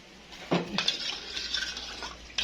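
Spices, sugar and salt stirred together in a bowl as a seasoning mix for Kentucky-style fried chicken, with a spoon scraping and clinking against the bowl in a short, close burst.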